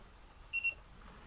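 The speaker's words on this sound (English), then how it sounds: "So you got to wake them up, and then you hear beep beep." Drone FPV goggles emit two quick, high electronic beeps in succession as they wake up, faint and clean against a quiet background.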